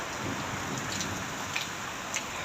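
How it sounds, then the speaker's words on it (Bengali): A windy storm with rain produces a steady, dense hiss of rain and gusting air outdoors, fairly faint and continuous across a short stretch, with no voices. "বৃষ্টি হইতেছে সাথে, বৃষ্টিটা কম কিন্তু বাতাস বেশি, অনেক বেশি বাতাস।"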